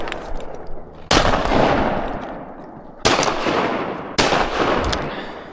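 Shotgun blasts from a duck hunt on a frozen river: three loud, close reports spaced about two seconds apart, each with a long ringing decay and no talking.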